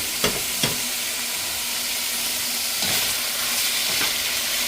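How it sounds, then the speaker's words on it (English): Green and red peppers, minced jalapeno and onion sauteing in a pan give a steady broadband sizzle, broken by a few sharp clinks and scrapes early and a couple of longer stirring swishes later, close and alone without voices. "We're gonna let that saute for a moment."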